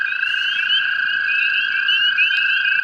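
Hundreds of toads call together on an early May night, a loud, continuous high trilling chorus with overlapping pulsing voices close by and no talk.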